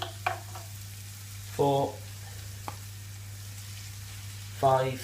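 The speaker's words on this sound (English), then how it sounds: "we're going to put our pork chops into this pan and get them cooking away" Pork chops sizzle in a hot pan with a soft, steady frying hiss, while a nearby voice counts aloud in short bursts over it.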